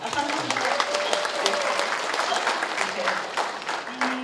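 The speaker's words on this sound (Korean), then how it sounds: "영동에서도 박수 한번 주십시오" An audience claps steadily and densely throughout a county council member's live legislative activity report talk event in Cheongyang, with voices mixed into the applause.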